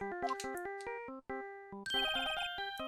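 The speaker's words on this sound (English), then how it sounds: "It's my ringtone!" A chirpy electronic phone ringtone from the Phoenix Wright: Ace Attorney video game plays a quick melodic jingle, pauses briefly, then resumes in a brighter, denser burst of tones.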